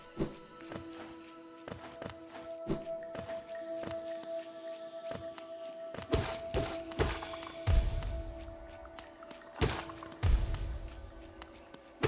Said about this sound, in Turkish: Çok geniş bir alana patlıyor böcek ha.